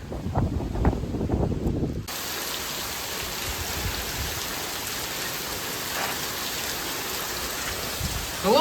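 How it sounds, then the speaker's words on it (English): Rain patters steadily on the roof of a tow van, a dense constant hiss of drops after a brief burst of louder, closer tapping at the start. "although it is raining"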